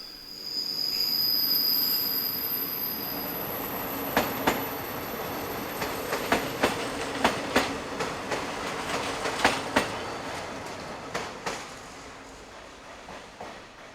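A Metrowagonmash electric multiple unit train, built from 2002, rolls past in Budapest with a rumbling hum, high wheel squeal early on, then a run of sharp rhythmic clacks over rail joints.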